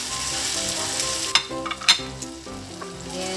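Fish sizzles and fries steadily in a hot pan of sarciado base, with sharp spatters and stirring clatter popping over the continuous crackle; no voices.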